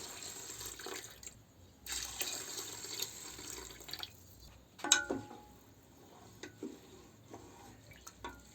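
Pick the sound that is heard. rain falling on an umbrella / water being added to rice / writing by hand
water being added to rice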